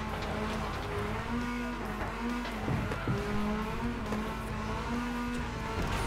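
A race car in FlatOut Ultimate Carnage drives at speed with a steady droning engine that rises and falls in pitch through gear changes, plus brief tyre scrubs and thumps, up close and continuous.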